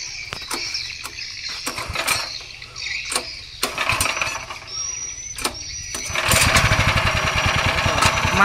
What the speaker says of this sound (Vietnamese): Máy chạy nói chung là rất là ok luôn.